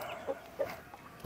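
A hen gives short, soft clucks at a steady pace, four brief calls in just over a second, nearby and with no talking, as she is let out of a cage after high wind and rain.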